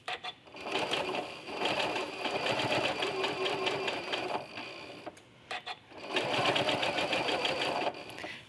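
A sewing machine with a walking foot stitching curves across a quilt top, a steady rapid mechanical chatter running in two long bursts with brief pauses between, close and loud.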